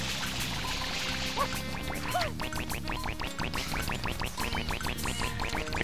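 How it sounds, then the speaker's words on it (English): Ducks quacking in the video game Super Mario Sunshine at Gelato Beach, a couple of short nasal calls over busy game music with splashing water sounds. "The quacking's like going nuts."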